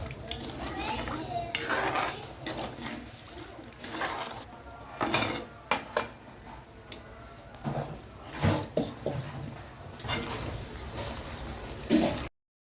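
Metal utensils clatter and scrape against a pot of sugar syrup in irregular bursts, with a steady stirring rustle between the knocks.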